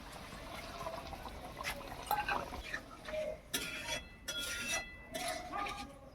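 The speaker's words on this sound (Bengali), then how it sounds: "তেঁতুল গোলায় জলটাকে দিয়ে দিচ্ছি" Tamarind water poured into a cooking pan, a close liquid splash and gurgle with metallic clinks of utensils, fairly quiet and without voices.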